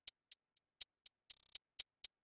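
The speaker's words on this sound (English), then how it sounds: "Then I just added a regular hi-hat that sounds like this." A regular hi-hat in a hip-hop beat, crisp closed ticks spaced evenly with one quick rapid roll in the middle, played alone and fairly quiet.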